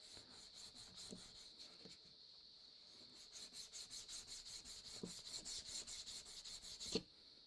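A chisel is rubbed by hand across an extra coarse sharpening stone in quick, even back-and-forth strokes, a soft rhythmic rasping close by that builds slightly and ends with a sharper knock.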